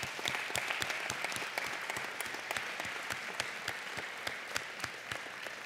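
Applause from a modest audience after a psychiatry lecture, individual claps distinct and evenly spread, somewhat distant and moderately quiet, continuing without speech.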